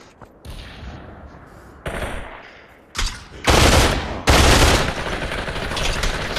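Video game gunfire rattles in repeated bursts of automatic shots, loud and close, growing denser toward the end, with a few sharp single reports.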